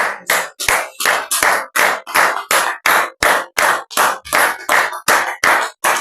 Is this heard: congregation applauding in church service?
yes